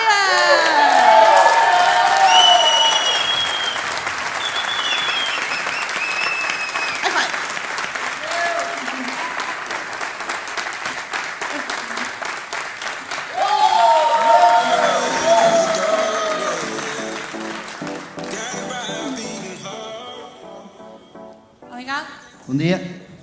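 Big audience applause with cheering and whoops welcomes Miguel Gouveia at the LIFEXTREME event in Leiria, loud and sustained for about twenty seconds, then thinning into scattered claps with voices mixed throughout.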